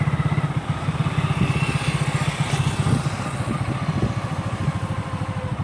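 A motorcycle engine in third gear pulls with a steady, throbbing drone as the rider twists the throttle, loud and close throughout with no talking over it.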